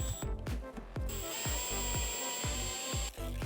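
Self-tapping screws driven into a rear-end part of a Subaru WRX STI with a power drill, a steady whirring drone broken by a regular train of sharp ratcheting clicks, close and loud, with no talk.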